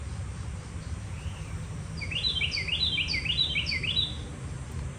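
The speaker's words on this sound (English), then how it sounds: "I like that chirp." A small bird gives a quick series of high, bright chirps, repeated about four times in a rhythmic burst, moderately near over a soft low background hiss.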